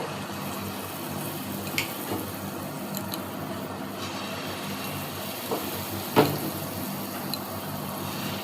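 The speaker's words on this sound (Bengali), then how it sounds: "এরকম করে আমি সব একে একে ভেজে নেব।" Ripe mango fritters fry in hot oil, a low steady sizzle running throughout with occasional faint clinks and a sharper tap near the end, fairly quiet.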